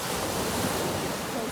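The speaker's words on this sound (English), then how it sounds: "Listen to the waves." Ocean waves at Coco Beach in Dar es Salaam, Tanzania, roll in as a dense, steady roar of surf, loud and close, with wind noise on the microphone and no voices.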